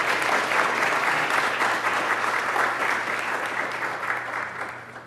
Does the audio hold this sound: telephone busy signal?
no